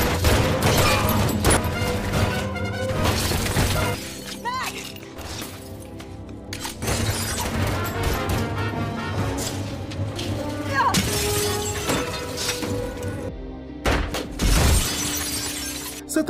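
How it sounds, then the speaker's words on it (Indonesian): Film gunfire as enemies shower two characters with bullets: dense, continuous bursts of shots mixed with crashing and shattering impacts, loud throughout with brief dips. "musuh menghujani mereka dengan peluru"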